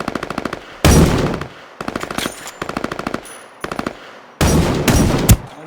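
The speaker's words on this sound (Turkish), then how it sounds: "yanlışlıkla vurdum. Onu öldürdüm." Bursts of automatic machine gun fire in the online battle-royale shooter Ring of Elysium, loud and close, coming in several rapid rattling volleys separated by short pauses, with two denser, heavier bursts.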